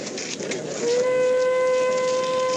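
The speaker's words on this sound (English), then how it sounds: "There's the train. Here she comes, fellas." A steam train whistle blows as the train arrives, a long steady tone rising in and holding at full strength after a brief hiss and rumble, fairly near and alone.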